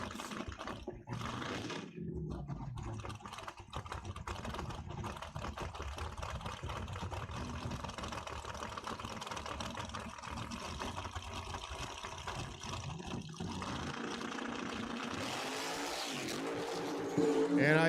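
Drag racing cars launch down a quarter-mile dragway strip, engines roaring loud and sustained with tire noise, building to a sharp surge near the end, with talk heard over parts of it.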